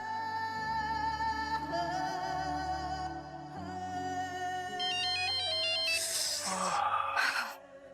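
A mobile phone ringtone plays a bright, repeating melodic tune, loud and steady, then breaks into higher warbling tones near the end before cutting down.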